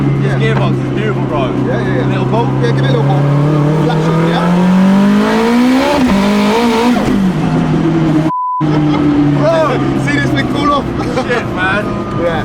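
An 800hp four-wheel-drive Honda Integra Type R with a sequential gearbox revs hard, engine pitch climbing steadily, then a quick flat shift with a brief cut before it pulls again, loud and close, with people talking over it.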